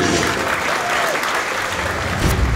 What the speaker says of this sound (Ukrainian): І ще раз під ваші оплески в октагоні Берковський.